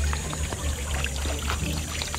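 Water pours steadily from a small garden pond waterfall, a continuous close splashing trickle.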